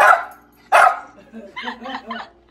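Two sharp, loud dog barks ring out close by, about two-thirds of a second apart, and a person then speaks briefly afterward.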